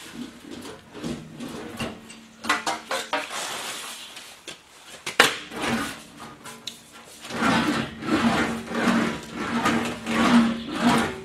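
An English wheel rolling a large steel fender panel for a Willys CJ5, with repeated rubbing, squeaking passes and metallic clatter in uneven bursts, close and fairly loud, no speech.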